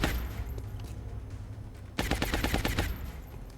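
Suppressive gunfire from a squad weapon in the strategy game XCOM: Long War erupts halfway through as a rapid, loud burst of closely spaced shots after a low ambient hum.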